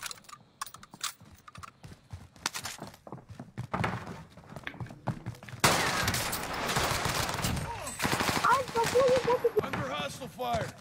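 Gunfire in a Fortune's Keep battle royale match: rapid bursts of close shots and scattered single cracks mixed with clattering footsteps and effects, while players talk over the action.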